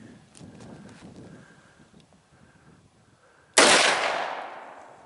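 A Marlin 30-30 lever-action rifle fires one sharp, loud shot outdoors during a beaver and muskrat trapping outing, its crack decaying into a lingering rumble after several seconds of quiet background.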